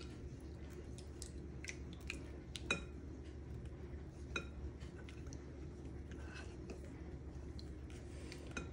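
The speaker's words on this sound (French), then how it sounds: "Maintenant, vous voyez, je délaye. Je mélange comme ça." Milk is stirred into batter in a bowl while making manalas and bredele, giving soft wet squelching with scattered light clinks of a utensil against the bowl, close and quiet under a low steady background hum.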